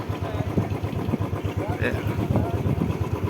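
A motorcycle engine putters nearby in a steady, rapid idle rhythm at the Kartarpur corridor immigration point, with a voice faintly heard over it.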